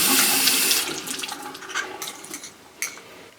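Very hot water pours from a shower faucet in a bathroom, a steady hiss and splash that is loud at first, then thins into uneven gurgling with a few spattering bursts.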